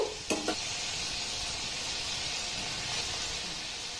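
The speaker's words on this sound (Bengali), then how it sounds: "আমি এইভাবে অল্প অল্প দিয়ে ভেজে নেব" Steady, close sizzling of flour-based sweets frying in hot oil, with a couple of quick utensil clinks near the start.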